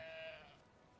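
A single faint sheep bleat from the video game Brothers - A Tale of Two Sons, short and wavering, fading out over about a second with no talk.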